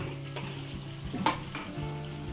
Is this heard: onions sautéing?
yes